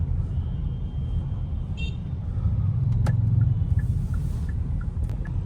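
A car rolls slowly toward a fuel pump at a roadside petrol station near an airport, giving a steady low engine and road rumble with faint traffic around it.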